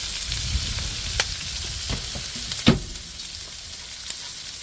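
Breaded pork chops fry in a pan with a steady, close sizzle, broken by a few brief clicks and one louder knock partway through, with no talking.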